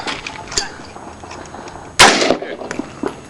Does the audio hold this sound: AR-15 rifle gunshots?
yes